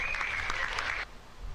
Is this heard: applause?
yes